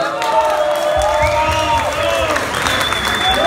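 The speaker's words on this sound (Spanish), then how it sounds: "aquí está Javier de Transmeta, un aplauso." A crowd applauds loudly and continuously, with scattered cheers and whoops rising over the steady clapping.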